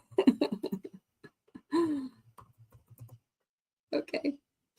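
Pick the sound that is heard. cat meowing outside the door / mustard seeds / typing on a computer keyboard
typing on a computer keyboard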